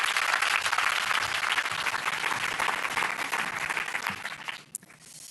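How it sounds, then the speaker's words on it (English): Sustained applause from an audience at a NATO summit in The Hague greets the Dutch Minister of Defense, dense clapping filling the room steadily before thinning near the end. "Please give him a warm applause."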